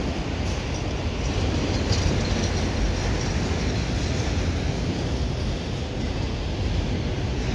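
A CN freight train passes at the Dorval West signals, its steady broadband rumble and wheel roar holding loud and constant throughout with no voices over it.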